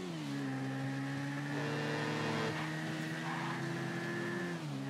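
KTM RC8R 1190 motorbike engine in GTA 5, a smooth sustained drone with layered harmonic tones that rise and settle as the bike cruises, loud and close with no talking.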